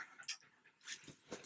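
A black pet dog pants and huffs softly in quick, irregular bursts while playing with a toy, close by and quiet.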